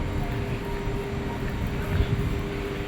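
A train pulls into Paris Gare de l'Est station with a continuous low rumble and broad mechanical roar. The sound is steady and fairly loud throughout the short stretch.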